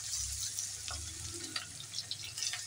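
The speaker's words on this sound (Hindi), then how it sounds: "अजवाइन हमारी माशाल्लाह भुन चुकी है, अब हम टिक्के रख देंगे अपने।" Chicken tikka pieces fry in hot oil with toasted ajwain (carom seeds) over full flame, producing a continuous crackling sizzle up close with light stirring, and no voices.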